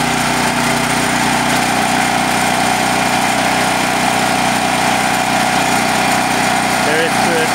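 A Firman H07552 portable generator converted to run on natural gas drones continuously and loudly close by, its steady engine rumble unbroken throughout.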